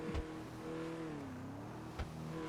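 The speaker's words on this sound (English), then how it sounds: "I hate the sound of this car" A video game car engine hums and revs at a low, steady pitch, rising and falling slightly, with a couple of short thumps, fairly quiet overall.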